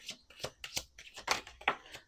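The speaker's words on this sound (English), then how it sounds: "Let's do 2 more shuffles." Cards are riffled and shuffled up close in several quick, crisp bursts of fluttering snaps.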